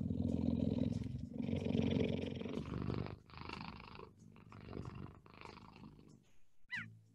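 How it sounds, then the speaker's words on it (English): A cheetah purrs in long, low rumbling bursts, fairly close, with short pauses between breaths and a brief higher chirp near the end. "Cheetahs are one of the few big cats that can't roar. Instead, these carnivores purr"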